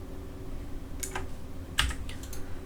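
A computer keyboard is used while working in SketchUp, giving a few sharp, separate key clicks spaced across a quiet room background, the loudest near the middle.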